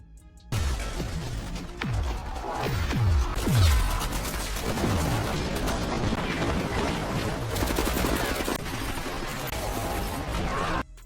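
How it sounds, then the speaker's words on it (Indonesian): Several loud gunshots ring out in quick succession near the start, followed by sustained, noisy clatter of a chaotic struggle. "Di dalam pertarungan tersebut, terlihat Jimmy yang tumbang oleh beberapa tembakan dari sang anak buah Ellen."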